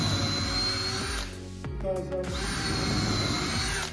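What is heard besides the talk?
Makita combi drill drilling into timber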